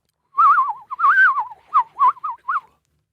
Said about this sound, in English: It whistles when you throw it through the sky like the Nerf you had when you were a child.